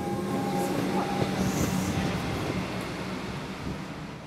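A train at a station gives a steady, loud rumble with faint rolling clatter and brief squeals, continuous and close throughout.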